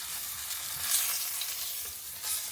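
Salmon fries in butter and garlic in a pan, a dense, steady sizzle close up with light stirring and basting noises, no talk.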